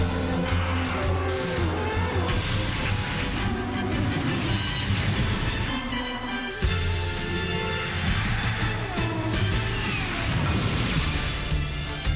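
IndyCar race cars scream past at Nashville Superspeedway during a 2006 night race, with loud, dense engine roar and crowd noise filling the whole stretch. A brief dip comes midway before the din resumes.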